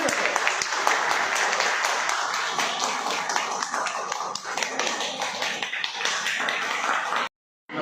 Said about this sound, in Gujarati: જોરદાર તાળીઓથી સ્વાગત કરજો